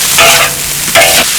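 Pickled sauerkraut stir-fried in a wok, loud close sizzling with two bursts of scraping and tossing against a steady hiss, no talking.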